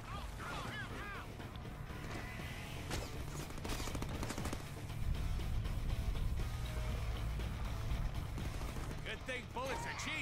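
Rapid gunfire and crashing impacts from the Deadpool video game, a dense continuous barrage of shots layered with explosions and mechanical clatter, loud and busy throughout.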